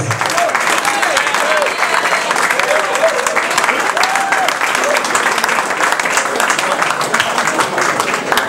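Crowd applauding basketball players after a Fougères home game, dense continuous clapping from many spectators with some voices mixed in, loud and sustained throughout.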